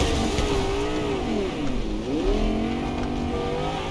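A car in the video game Fortnite drives with a steady engine drone whose pitch sways up and down, dipping briefly mid-clip before climbing again, loud and continuous with no talk.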